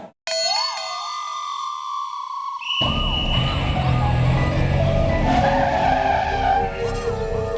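A car brakes hard to a stop, its tyres screeching loudly in a sharp skid that cuts in over dramatic music and whooshing sound effects.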